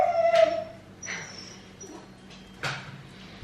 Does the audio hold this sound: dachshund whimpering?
yes